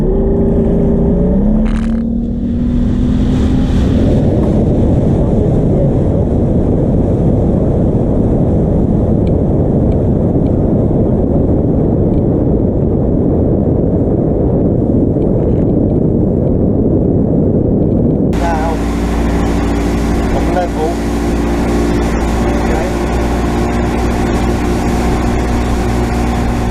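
A motorboat's outboard engine roars and climbs in pitch as the boat accelerates onto plane, loud and continuous, then settles into a steady higher drone with wind and water rush.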